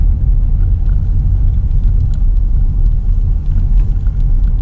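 A car rolling over rocky speed bumps and rough pavement through an old mill village neighborhood, a constant loud low rumble of tires and cabin noise, with faint knocks and rattles throughout.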